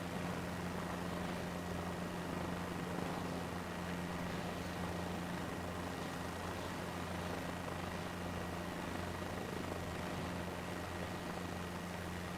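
A simulated helicopter hovering at about 8 feet in Microsoft Flight Simulator 2024 gives a constant, fairly quiet droning hum with a steady rotor-and-engine tone and no changes or talk.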